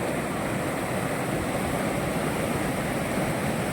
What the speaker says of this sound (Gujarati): જોરદારનો પાણીનો પ્રવાહ ચાલુ છે ખળ ખળળ થતું પાણી જાય છે ઉમિયા સાગર ડેમનું પાણી